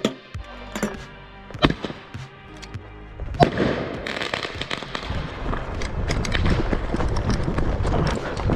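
A cannon fires during an outdoor scenario game: a few sharp, scattered bangs, then a loud burst that trails into a sustained, rough roar of noise.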